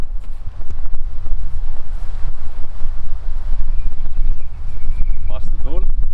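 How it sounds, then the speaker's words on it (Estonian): Strong headwind buffets an outdoor microphone in loud, continuous gusts, with a few faint sounds in the background. "Vastu tuul."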